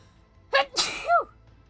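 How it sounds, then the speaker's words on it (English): A single sharp sneeze with a quick inhaled build-up and an explosive burst, followed by a short vocal tail, close and loud against a quiet room. "I need to sneeze."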